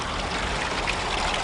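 A public drinking fountain in the town of Prijepolje, Serbia, with cold water running steadily, a continuous close splashing rush with no voices.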